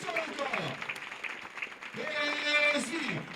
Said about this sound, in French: Allez, sous les applaudissements, Louis, plus fort encore.